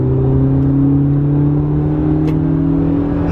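BMW E30 M3 engine pulling in third gear, heard from inside the car as a loud, steady, close drone with strong engine tones and no talk over it.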